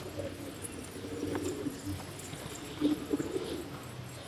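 Low, soft cooing of pigeons in a coop, a couple of faint burbling phrases over quiet ambient noise.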